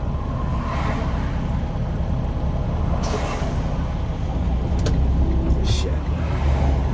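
Road traffic rumbles steadily around a truck cab in the Minneapolis area, with a low engine drone and a few brief hissing bursts like air brakes, while a person talks throughout.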